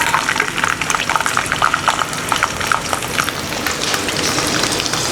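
A handful of peeled garlic fries in hot oil, crackling and spitting densely and steadily, close and fairly loud throughout.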